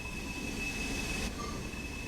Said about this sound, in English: Begin by slowly opening the regulator to get the locomotive moving.